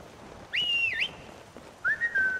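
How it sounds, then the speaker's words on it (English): Two short whistled calls summon a horse in Skyrim Special Edition: a bright rising-and-falling note, a pause, then a shorter level note, close and clear over quiet background. "Where's horse? Whistle, yep."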